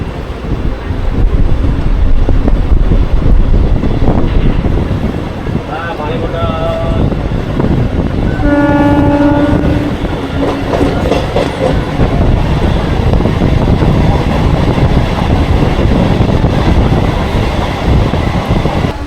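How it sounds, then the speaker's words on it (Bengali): A Kharagpur–Balasore MEMU local train departs Dantan station, rolling steadily with continuous rumbling wheels and wind buffeting the microphone; a horn-like tonal blast sounds briefly midway. "দাঁতন ছাড়লো ট্রেন"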